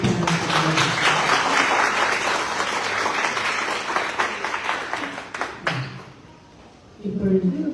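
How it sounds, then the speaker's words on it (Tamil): A crowd claps steadily at a public talk in Australia, dense applause lasting around five seconds before thinning and trailing off, with a voice speaking briefly near the end. "இன்னும் ஒரு நல்ல ஒரு கைத்தட்டு"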